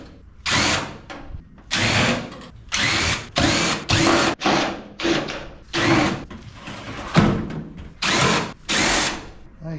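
A power drill backing security screws out of a scrap microwave, about a dozen short whirring bursts in quick succession, loud and close, with brief pauses between and no talk.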